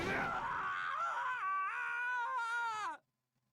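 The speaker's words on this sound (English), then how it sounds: "That's a good emotional screech." A Danganronpa character lets out a long, wavering emotional screech that rises and bends in pitch, loud and alone for about three seconds before cutting off into silence.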